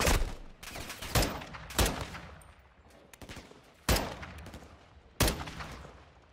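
Call of Duty Modern Warfare 2 campaign gunfire: several sharp, loud shots fired at irregular intervals, each decaying quickly, with a few clustered bursts.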